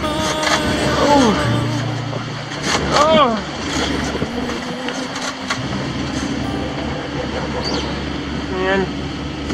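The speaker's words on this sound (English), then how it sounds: "That pounding on the nose just makes it impossible to go." A sailboat motoring off the North Carolina coast near Cape Fear slams its bow into head seas, with heavy thuds and rushing water over a constant engine drone and wind, plus a brief voice exclaiming.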